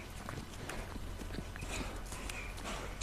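A horse walking, its hooves clip-clopping in a steady, fairly close rhythm over a constant background hum, with no talking.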